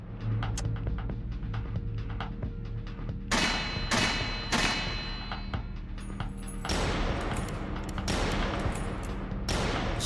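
Gunshots fired at a crack pipe in the video game Kathy Rain 2: several sharp reports land over a steady rumbling background, with metallic ringing after some hits.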